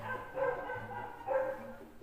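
Dogs barking outside below a house, two faint bursts of barking about a second apart, distant and muffled with no voices over them.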